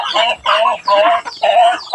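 Chickens clucking close by while eating, in short repeated bursts, several loud calls in a row with brief gaps.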